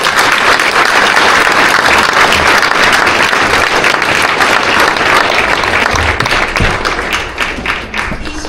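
Sustained applause from a large audience at a national conference on family court violence fills the room loudly and evenly, dense clapping that thins and softens slightly near the end.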